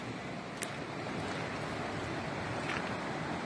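Strong rushing water of the flooded Ice River near the Gamka, a steady loud broadband roar filling the whole stretch with wind buffeting the microphone and a couple of brief knocks.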